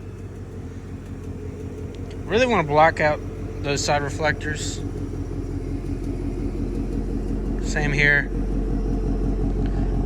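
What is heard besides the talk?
2024 Ford Mustang GT engine starting and rumbling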